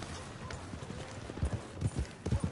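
Horse hooves galloping across the ground in the Red Dead Redemption 2 video game, a quick, rhythmic clip-clop that grows heavier and closer under ambient game sound.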